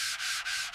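Steady abrasive rubbing of sanding body filler on a rusty car, close by, in long strokes with brief pauses between passes.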